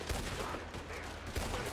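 Gunshots in Red Dead Redemption 2 sound as a dense, noisy volley, a couple of louder cracks standing out against a sustained wash of battle noise.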